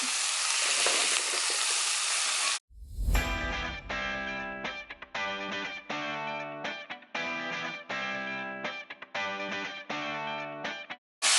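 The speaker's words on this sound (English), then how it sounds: "So now I'm just adding in the cabbage and the carrot." Shredded cabbage and carrot sizzle loudly in a hot pan for a couple of seconds, a harsh, close hiss that cuts off abruptly as music takes over.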